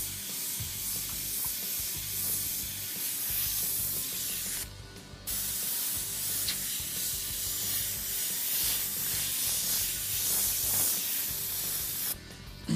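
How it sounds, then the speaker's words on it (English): An Iwata HPCS prototype airbrush spraying paint onto a car in fire-effect artwork, a steady close hiss of airflow that cuts out briefly twice before resuming. "mention this airbrush that I'm using. This is Iwata's, it's a prototype from Iwata"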